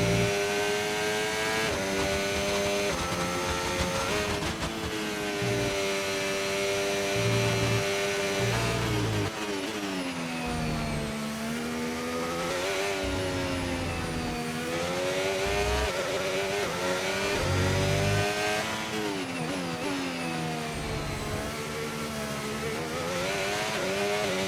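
Formula 1 car engine in the F1 25 racing game at the Brazilian Grand Prix, a loud continuous high-pitched wail that rises and falls through gear shifts and revs for the whole stretch, with no talking.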